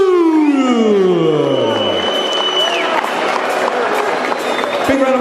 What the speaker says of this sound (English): Big round of applause here to Marcos Jesus Cornejo, coming all the way from Buenos Aires, Argentina